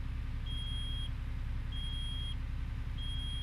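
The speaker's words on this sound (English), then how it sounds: "So that's what that annoying beeping sound is." Low air pressure warning in American Truck Simulator, a clear high electronic beep repeating in long even tones about every 1.2 seconds over a steady truck engine drone.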